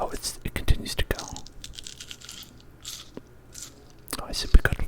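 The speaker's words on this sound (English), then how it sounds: "Oh, I see we got a little bit of eating and crunching." Crunchy bites of raw celery, heard close and intimate as several sharp crisp crunches with softer chewing between, alongside soft whispering in an airplane-cabin setting.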